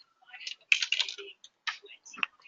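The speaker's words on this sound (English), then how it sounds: "So if I'm typing away, doesn't really matter wherever." Someone types on a computer keyboard in short irregular bursts of quick clicks and taps, close and fairly clear, with pauses between the runs of keystrokes.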